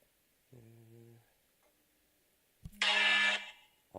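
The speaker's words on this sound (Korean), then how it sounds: "알람이 울리네." An alarm going off indoors: a short low buzzing tone, a pause, then a louder harsh burst lasting about half a second, close and abrupt, with no speech over it.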